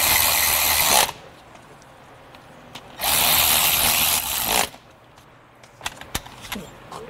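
Power tool driving bolts on a Hyundai Sonata's A/C system: two loud bursts of whirring, one short and one longer, followed by quieter clicks and clinks.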